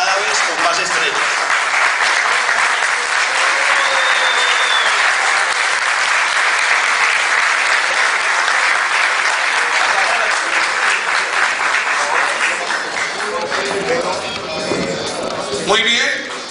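Loud, sustained applause from a large audience for a football team's players and coaching staff at a squad presentation, many hands clapping continuously with a voice speaking over it toward the end.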